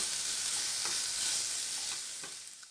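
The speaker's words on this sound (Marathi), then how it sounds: "थोडी हाय फ्लेमवरतीच परतून घ्यायचं आहे. सर्व भाज्या तेलामध्ये चांगल्या परतून घ्यायचे." Mixed vegetables for Hakka noodles stir-fried in oil over a high flame, a steady close sizzle with faint scraping stirs throughout, easing slightly toward the end; no one talks.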